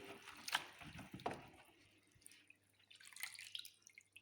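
Water drips and splashes in short bursts as a rolled paper tube is lowered into homemade wood stain, followed by quieter trickling; faint and close, with no talking.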